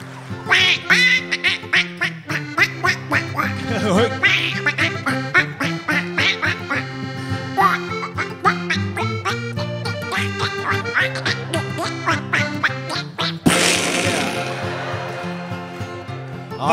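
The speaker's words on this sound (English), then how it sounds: "Duck break." Ducks quack loudly and repeatedly on a duck-hunting trip in Newfoundland, the calls dense and rhythmic and mixed with a busy musical backing throughout.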